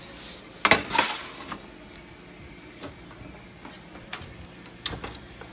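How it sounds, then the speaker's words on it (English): Metal baking pan of keto crackers pulled from an oven, a few sharp clanks and rattles near the start followed by scattered lighter taps and clicks in a quiet kitchen, no talking. "We're going to take them out of the oven"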